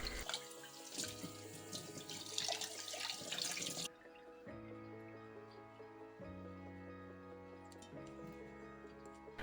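Tap water runs and splashes while a burnt pot is rinsed for the first four seconds, then cuts off, leaving only faint dripping under soft background music, with no speech.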